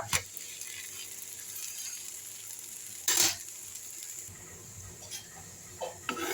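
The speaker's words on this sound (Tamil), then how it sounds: "கொஞ்சமாக எண்ணெய் ஊற்றிப்போம் தோசையை திருப்பிடலாம்" Dosa crisping in a little oil on a hot pan after being flipped, a steady sizzle throughout with a brief louder burst of scraping and clatter near the middle and a few sharp clicks toward the end.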